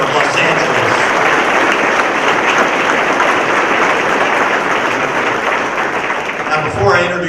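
A conference crowd gives a sustained round of applause for the mayor of Los Angeles at an Orange County opening session, loud dense clapping throughout that begins to thin near the end as a voice starts speaking.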